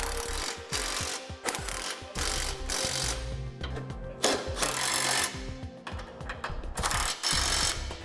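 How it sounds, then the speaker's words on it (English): A ratchet with a 3/4 socket tightens base plate bolts on a 2006 Hummer H3, rapid clicking bursts repeated in several close, fairly quiet runs separated by short pauses. "we'll be able to use a 3/4 socket to begin tightening all our hardware"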